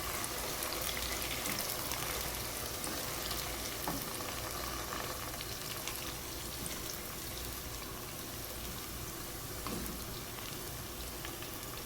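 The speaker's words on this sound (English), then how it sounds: "Stir fry everything for 2 to 3 minutes." Onions and mint leaves stir-frying in a pan for Bangalore-style mutton biryani, a loud, steady sizzle and crackle that runs unbroken throughout with no talking.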